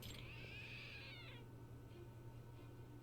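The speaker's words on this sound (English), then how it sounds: "It meowed. So, it's a trick statue." A trick cat statue in the video game Lost Judgment gives a single clear, drawn-out meow that falls away after about a second, over a faint steady background hum.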